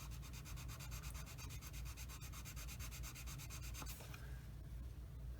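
Rapid, steady back-and-forth sanding with a small 400-grit sanding stick on a plastic scale model tank hull, close up, the rhythmic rasping strokes continuing for several seconds before easing off.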